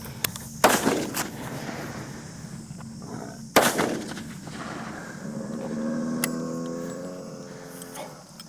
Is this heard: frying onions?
no